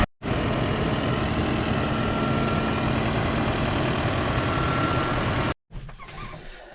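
A tractor engine drones steadily while pulling a rotavator through a field at a slow crawl of about 5 km/h, a loud continuous low rumble that cuts off abruptly near the end, followed by a quieter tail.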